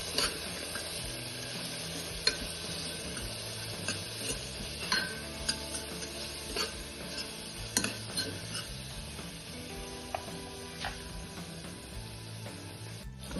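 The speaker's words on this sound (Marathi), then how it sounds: "मसाले चांगले मिक्स करून घ्यायचे।" Garam masala and spices are stirred in a pan at home. A soft sizzle carries under repeated scraping and clinking of a spoon against metal, with irregular sharp taps spread throughout at a moderate distance.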